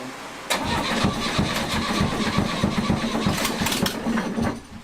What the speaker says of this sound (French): Il démarre. Yeah, le moteur démarre presque.